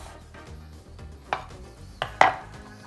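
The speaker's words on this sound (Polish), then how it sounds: "Do tego kroimy cienkie plasterki pomidora." A knife cuts through a tomato and knocks on a cutting board, three distinct taps in quick succession, close up with no talking.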